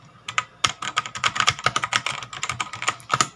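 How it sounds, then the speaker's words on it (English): An HP GK100 mechanical keyboard typed on steadily, with rapid, close, crisp clacks of keys bottoming out in an irregular rhythm, alone and fairly loud. "You can only hear the sound of it bottoming out."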